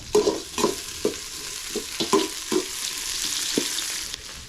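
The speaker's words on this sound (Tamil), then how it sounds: "இதில் வந்து எண்ணெய் ஊற்றி அதில் வெந்தயம் கருவேப்பிலை வரமிளகா வெங்காயம் இது எல்லாமே வந்து சேர்த்துட்டேன் இப்போ வந்து வதங்கிட்டு இருக்கு" Onions, fenugreek seeds, curry leaves and dried red chillies fry in oil in a pan, a steady soft sizzle broken by a series of close scraping stirs of a spoon, with no talking.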